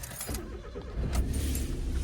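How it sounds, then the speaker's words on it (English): A Suzuki Alto Works HA22S car engine cranks and catches, settling into a steady, close low rumble after a brief jangle of keys. "I'll start the car up."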